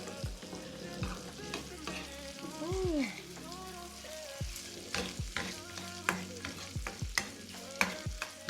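Franks and shrimp fry in a pot with a steady sizzle, broken by repeated scraping stirs and clacks of a utensil against the pot. The sounds are close and moderately loud, and no one talks.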